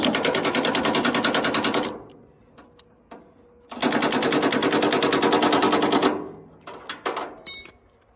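A cordless power tool set to its lowest power setting runs in two sustained bursts of rapid, buzzing mechanical chatter, each about two seconds long, with quieter clicks and handling noises in the gaps between them.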